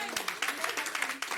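A church congregation claps and applauds in praise of Jesus Christ, a dense, steady wash of many hands with a few sharper claps standing out, close and loud throughout.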